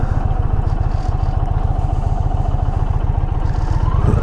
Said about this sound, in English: The engine has a unique sound to it, that's for sure.